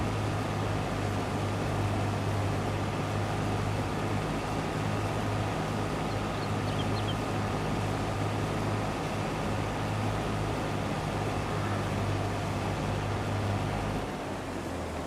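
A tractor mulching weeds in Farming Simulator 22 produces a steady, loud engine drone with a broad noisy wash over it, unchanging for the whole stretch.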